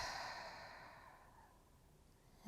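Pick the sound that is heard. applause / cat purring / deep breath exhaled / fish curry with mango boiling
deep breath exhaled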